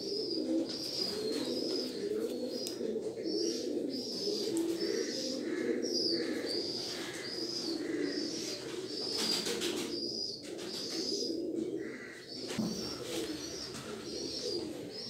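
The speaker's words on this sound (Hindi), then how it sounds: "ये मोस्ट फेवरेट कबूतर है, बहुत फेवरेट कबूतर है मेरा।" Pigeons cooing in a loft, repeated soft rhythmic coos from several birds close by, with occasional chirps and brief wing flaps, no talk.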